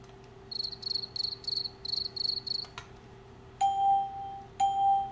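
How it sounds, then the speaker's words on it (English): Crickets chirping as a sound effect, in short bursts of rapid trills repeated in a regular rhythm, clear and close, followed by two ringing chime-like tones. "all I hear is crickets."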